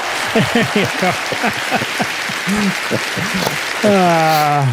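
A crowd claps steadily throughout, then a bright rising fanfare of harmonious tones swells in near the end, loud and celebratory.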